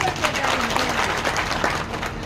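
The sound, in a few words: crowd clapping at a rally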